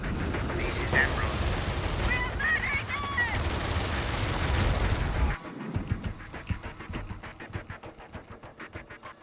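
Dense battlefield gunfire and explosions from units opening fire in Tom Clancy's EndWar, set in Europe, with loud continuous bursts that later thin into rapid distinct machine-gun pops, and radio-style voices talking over the combat.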